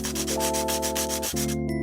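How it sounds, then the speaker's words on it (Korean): Rapid rhythmic scratching of sandpaper rubbed back and forth on a hard resin mold, close up, with a steady background hum. "이번 작업은 사포질을 정말 많이 했네요"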